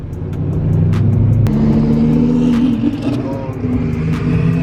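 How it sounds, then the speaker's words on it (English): A BMW E92 M3 engine with twin turbos revs and rumbles loudly nearby, holding a deep, steady drone with a few sharp rises, with faint voices mixed in. "that's twin turbo. You can hear them."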